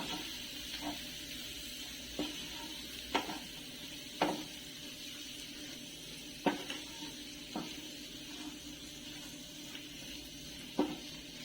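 Chilli powder being stirred into mutton liver fry in a pan, with a steady low sizzle and a series of sharp spatula scrapes and clinks against the metal at irregular intervals.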